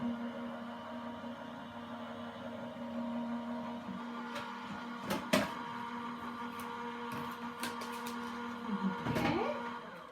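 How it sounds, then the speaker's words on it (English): A die cutting machine feeds a plate sandwich through its rollers with a steady low motor hum, punctuated by a few clicks and clunks, moderately close and without talk. "I'm going to run that through the machine. Just give that a couple of seconds just to run through there."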